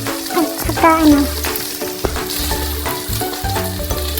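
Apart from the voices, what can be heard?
BBQ-style pork belly sizzling with banana ketchup and soy sauce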